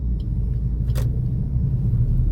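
A Maruti Swift VXI petrol car on a highway, its engine rumbling steadily at low speed after a downshift while turning at an intersection, heard from inside the cabin with a faint click.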